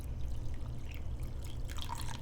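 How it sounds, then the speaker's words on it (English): Warm water trickles slowly into salt bread dough, a soft, uneven dribbling and splashing over a low background rumble, growing slightly brighter toward the end. "I'm gonna add some warm water slowly."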